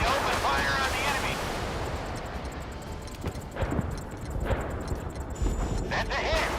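Warship guns fire at an enemy in the naval video game Force of Warships, heavy booming blasts thudding irregularly over a dense rumbling battle background.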